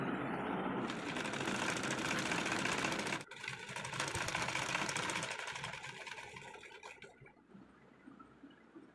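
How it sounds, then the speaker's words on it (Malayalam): An electric sewing machine runs steadily while stitching a double-folded dress neckline, a close continuous whirring drone with a short pause before it resumes and then winds down near the end. "അപ്പോൾ ഡബിൾ ഫോൾഡ് ചെയ്തിട്ട് ഒന്ന് മടക്കി നെക്കിൻ്റെ ഭാഗം ഒന്ന് സ്റ്റിച്ച് ചെയ്ത് കൊടുക്കുന്നുണ്ട്."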